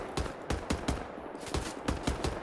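Automatic gunfire from the video game Wolfenstein: The New Order, with about ten loud, sharp shots in an uneven, rapid rhythm over a steady background of game noise.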